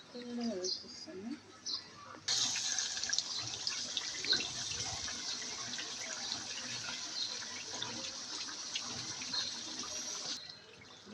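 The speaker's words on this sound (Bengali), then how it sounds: "এখন বাটিটা ধুয়ে সামান্য একটু পানি দিয়ে দেব" Tap water runs steadily for about eight seconds while a bowl is rinsed and a little water is added during home cooking of chicken biryani, with a brief voice and kitchen clatter just before the flow starts.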